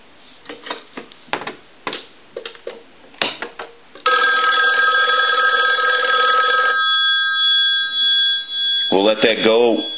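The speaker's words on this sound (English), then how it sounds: "we'll go ahead and ring the telephone" After brief talk, the mechanical bell of a 223G three-slot payphone rings loudly in a continuous clanging burst for a few seconds, then a voice resumes.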